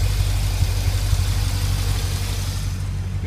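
A 2006 Corvette Z06 engine idles in a garage after months unused, a loud, steady low rumble with a slightly uneven pulsing beat, close by and with no talk.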